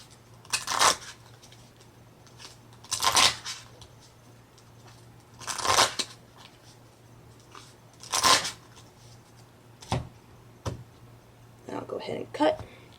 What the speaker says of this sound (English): and then shuffle up